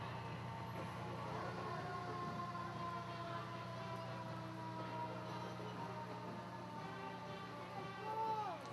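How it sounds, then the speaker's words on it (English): Ambulance siren in a wet-weather Christmas parade in Morgantown, West Virginia, wailing steadily at moderate distance through the whole stretch over low vehicle rumble and crowd noise, with people talking nearby. "Star City Ambulance there."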